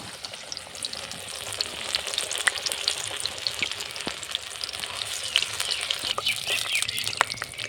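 Pumpkin flower fritters (pakora-style bora) frying in hot oil, a continuous close crackling sizzle with scattered pops and sharp spits throughout, no voices.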